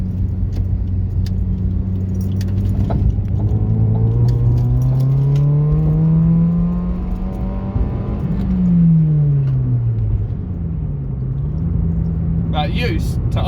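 A modified Toyota Yaris is pushed hard around a roundabout from inside the cabin, its engine droning loud and steady, then rising and dipping in pitch as the revs climb and fall through the turn, with a jangle of keys over the engine.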